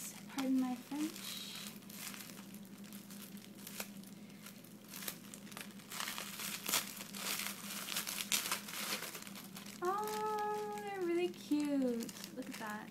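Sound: cutting open plastic packaging of doll shoes

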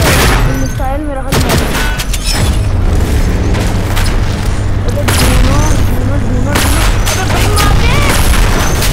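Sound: missile explosion in video game Infinity Ops

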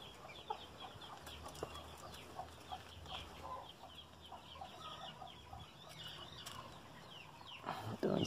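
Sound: young hen clucking

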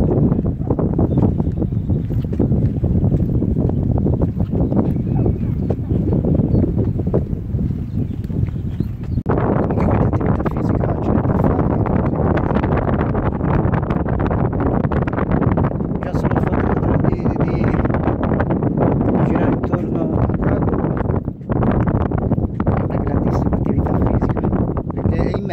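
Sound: wind in the middle of a lake

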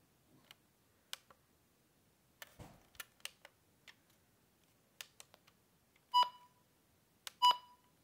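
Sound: button beeps of a Maxx Digital weather radio

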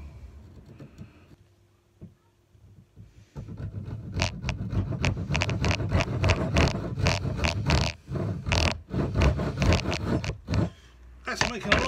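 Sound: cutting wood to shorten a hammer handle

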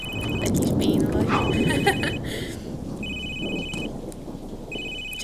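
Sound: telephone ringing in video game The Sims 3

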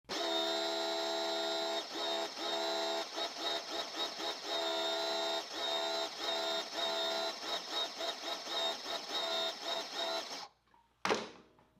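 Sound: budget Amazon pressure washer running

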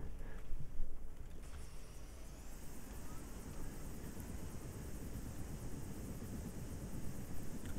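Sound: helicopter flying in video game Battlefield 2

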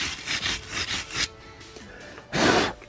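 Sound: wire brush scrubbing the brake caliper hanger

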